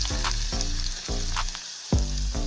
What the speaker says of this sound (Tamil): இப்படி கத்திரிக்காய் பொறிச்சு எடுத்து வைக்கணும்